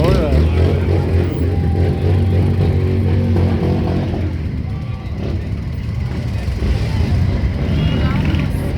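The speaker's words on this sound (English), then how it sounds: "All the bikes, they come in and they go around and they come back in." Motorcycles in a parade at Pullman, Germany roll past in a steady, loud stream of engine rumble and revving, with people talking over the continuous traffic noise.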